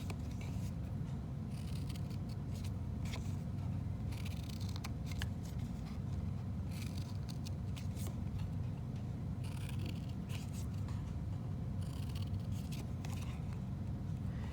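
Scissors cut around a cardboard kumihimo disk, a faint close run of repeated snipping and scraping bursts spread evenly throughout, with no talk.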